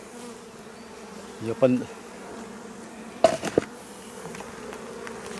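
Honeybees hum steadily around a drone-laying hive, a low, even buzz with a few brief louder knocks and a short spoken remark in French over it.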